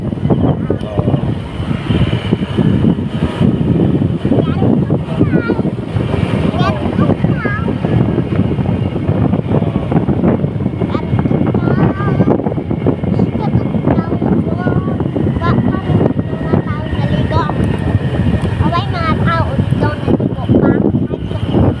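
Strong wind at sea gusting over a small boat, a constant loud roar of wind buffeting the microphone, with people talking close by throughout.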